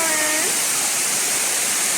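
Water flows beside a cave in Fung Tak Park, a loud steady rush close by, with a brief faint tonal sound at the start and no speech.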